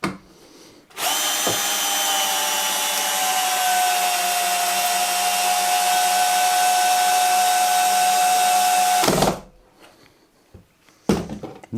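A Bosch Flexi Click drill on its drill setting drives a screw in, a loud, high, steady motor whine lasting about eight seconds before cutting off abruptly into near quiet.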